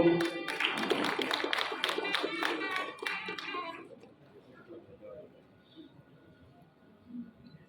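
An audience claps during a lamp-lighting ceremony at an event in Sangli, with dense applause filling the first four seconds and then fading away into quiet room tone.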